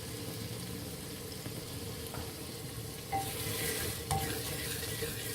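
Spices such as turmeric, red chili and salt sizzle in a pan over medium heat with a splash of water, a steady soft frying hiss with a couple of stirring scrapes, fairly quiet and steady throughout.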